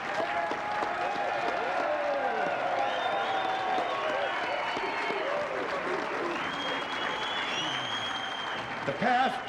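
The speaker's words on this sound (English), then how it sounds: "He deserves your applause and standing ovation." A crowd at the Kivgiq festival in Alaska applauds and cheers a mayor, with sustained clapping mixed with voices and whistle-like calls across the whole stretch, swelling briefly at the end.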